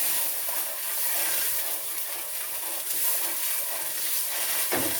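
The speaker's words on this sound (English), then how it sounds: "Give it a stir." Tomato puree being stirred into a satay curry in a hot pan, with a steady sizzle and scraping stir throughout, close and continuous with no talking.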